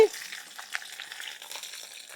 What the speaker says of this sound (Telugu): వేగిన తర్వాత అల్లం ముక్కలు వేస్తున్నానండి పచ్చిమిర్చి